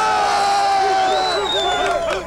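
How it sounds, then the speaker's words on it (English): Crowd below shouting cheers and jeers at a news event, a loud mass of voices with rising whoops and calls that overlap and swell before trailing off. "cheers and jeers from the crowd below"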